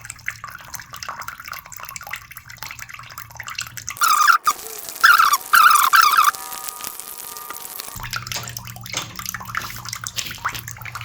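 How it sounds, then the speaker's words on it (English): Water pouring from a leaking radiator valve tail into a container, heard as a continuous splashing trickle, with a brief louder burst of gurgling and bright tonal splashes in the middle. "As you can see, the water goes straight in it."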